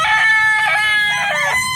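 A fighting rooster, a bullstag kept for cockfighting, crows loud and close. One drawn-out, strained call in several rising and falling segments fills the moment, with other fowl faintly audible behind it.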